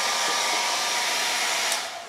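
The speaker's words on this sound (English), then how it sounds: "The hair dryer in general is not super loud" A Wazor travel hair dryer running on its high setting, a loud steady airy whoosh that holds evenly and then starts to fade at the end.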